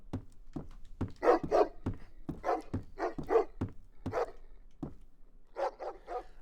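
A dog barks repeatedly in short, uneven bursts, some single and some in quick pairs, moderately loud and nearby, played through an Unreal Engine 5 reverb setup.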